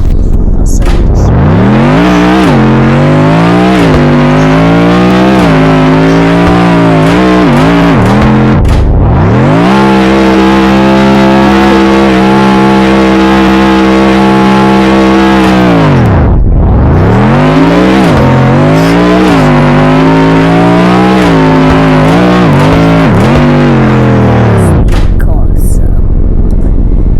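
A car engine in the Roblox game Car Dealership Tycoon revs loudly with smooth harmonic tones, rising and falling in pitch across three long sweeps and briefly dropping out between them, with no talk over it.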